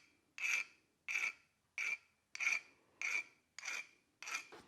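A metal file rasps across a Porsche 356 transmission pinch bolt to knock off burrs, seven evenly spaced bright strokes in a steady rhythm, close and clear with short pauses between.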